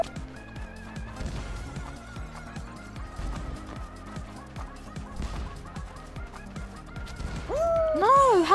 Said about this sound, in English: You don't have to jump on the chickens